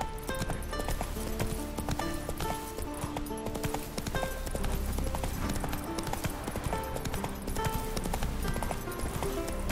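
Horse hooves clip-clop steadily and rhythmically in The Witcher 3 over a dense, continuous game soundscape of music and ambience, the hoofbeats clear and up front throughout.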